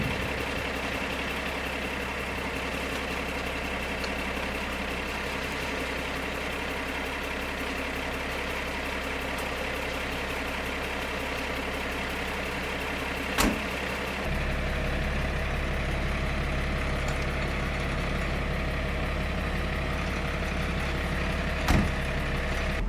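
A Unimog 4x4 truck's diesel engine idling at night, a steady heavy low drone that deepens and grows louder partway through, with a couple of sharp clicks.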